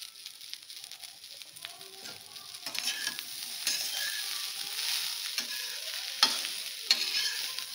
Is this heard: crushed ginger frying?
yes